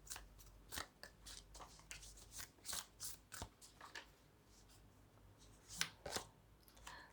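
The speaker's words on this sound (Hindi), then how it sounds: "तो एक एंजल ओरेकल कार्ड एक निकाल लेते हैं आपके लिए अप्रैल 1 से लेकर 15 के लिए" Angel oracle cards being shuffled and drawn from the deck, giving a series of soft, quick papery riffs and flicks with brief pauses, close and fairly quiet, with no talking.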